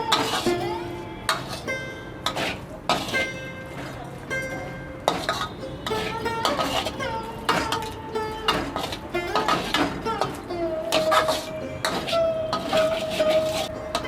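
A fig and poppy seed mixture is stirred in a pan, with a utensil scraping and clinking against the metal in an irregular, close rhythm under a faint sizzle.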